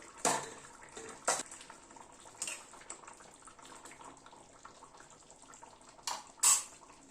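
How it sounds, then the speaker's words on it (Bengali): A pot lid lifted off egg and potato curry simmering on a low gas flame: a few sharp metallic clinks and clatters, spaced apart, over quiet kitchen background with faint watery bubbling. "ঢাকাটা খুলছি।"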